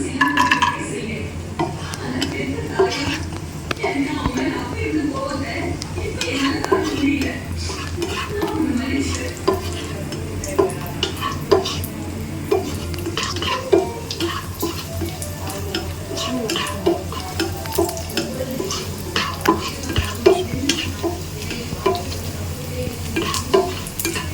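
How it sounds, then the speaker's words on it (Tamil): Cashews and raisins fry in hot ghee for rava kesari, a steady close sizzle broken by frequent scrapes and clinks of a spoon stirring against the pan throughout. "இப்போ முந்திரி திராட்சையை ஃப்ரை பண்ணிக்கலாம்"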